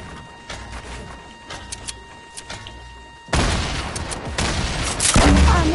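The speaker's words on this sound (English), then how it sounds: "Grenade launcher." A Fortnite grenade launcher fires amid gameplay, starting with sparse clicks and light shots, then erupting into loud, sustained explosive blasts and booming crashes that build toward the end.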